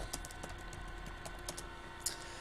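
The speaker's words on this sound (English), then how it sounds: "I'm typing this out" Typing on a computer keyboard during a stream: a quick, irregular patter of light key clicks, close and fairly quiet over faint background hum, with one sharper keystroke near the end.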